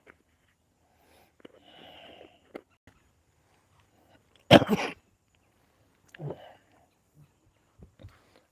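A single loud, harsh cough from a person recovering from a respiratory illness bursts out amid near silence, followed by a softer throaty sound and faint small clicks and movements.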